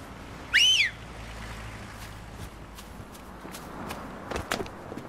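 A single short rising-and-falling whistle from a person, clear and near, followed by quiet room sound with a few faint footsteps or knocks.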